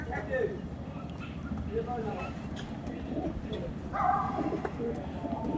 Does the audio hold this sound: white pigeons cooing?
yes